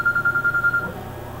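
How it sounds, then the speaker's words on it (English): A telephone rings in a repeating electronic pattern, about nine short even pulses over under a second, fairly loud and close, then stops, leaving quiet room tone behind it. "my wife's going to answer her phone in the middle of my video"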